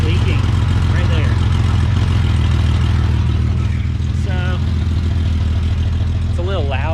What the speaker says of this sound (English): So it's a little loud because of the exhaust leak